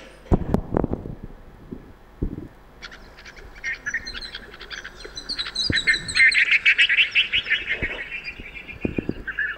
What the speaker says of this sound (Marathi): आता आपल्याला धोक्याच्या सूचना ऐकायच्या आहेत की कुठला पक्षी काय केला म्हणजे धोका जाणवला की तो